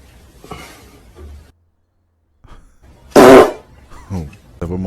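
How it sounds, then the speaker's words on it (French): A single short, loud burst of flatulence, sharp and raspy, between stretches of quiet, with people talking just before and right after. "Oh, t'as vraiment pété là?"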